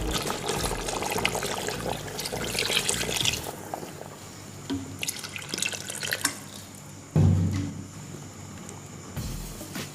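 Water trickles and splashes steadily into a cooking pot of chicken korma, with a few louder pours and drips, close up and without talk.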